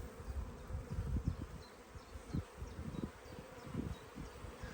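A dense swarm of honeybees hums steadily in an overflowing hive, a continuous droning buzz with occasional louder swells, no voices.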